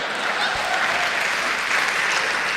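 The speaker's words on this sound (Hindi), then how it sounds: "ये वही लोग ताली बजा रहे हैं" The audience at a live satirical comedy show breaks into steady, loud applause, many hands clapping evenly throughout.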